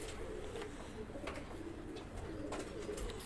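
Pigeons coo softly at a distance, low repeated throaty calls barely rising above a constant dense background hiss.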